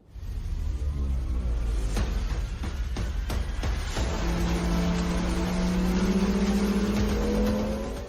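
A BMW M3 E36 Evo runs loud and steady throughout, with the engine revving up through several sharp throttle blips and then pulling away under acceleration with a rising drone.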